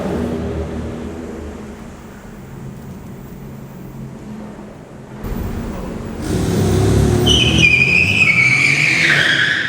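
An Infiniti Q50 with a Borla exhaust drifts, engine revving and tires skidding into a rising high squeal, loud and close, building over the last few seconds after a quieter rumble.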